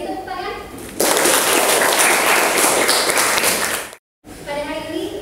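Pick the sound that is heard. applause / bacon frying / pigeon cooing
applause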